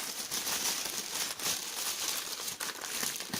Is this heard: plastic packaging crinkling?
yes